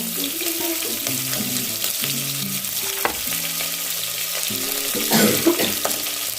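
Onions sautéing in hot oil with whole spices for drumstick biryani, a steady sizzle and fry running throughout with clinks of a stirring utensil against the pan, close and without speech.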